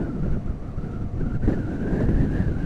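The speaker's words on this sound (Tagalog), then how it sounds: "Malakas yung hangin." Strong wind buffets the microphone during a ride on a road toward the far side of Cavite, a steady rough rush with a faint droning tone underneath and a brief dip partway through.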